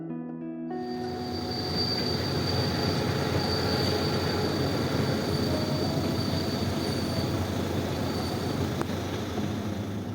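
A train runs along a railway line in Romania, a steady loud rumble of wheels on track with a sustained high wheel squeal and faint rhythmic clatter throughout.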